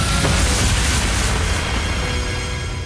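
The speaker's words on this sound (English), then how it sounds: "Ooh, that was a big explosion." A big in-game explosion from The Legend of Heroes: Trails of Cold Steel II hits as a loud, close boom with a broad roaring blast that slowly decays over about three seconds, with no speech.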